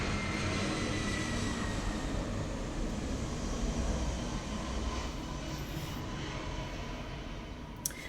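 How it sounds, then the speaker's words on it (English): A steady broadband engine roar from an airplane passing overhead outdoors, sustained and even for the whole stretch and fading only slightly toward the end. "Here comes a plane."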